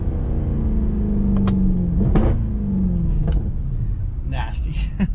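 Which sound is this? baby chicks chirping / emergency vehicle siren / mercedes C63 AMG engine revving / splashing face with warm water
mercedes C63 AMG engine revving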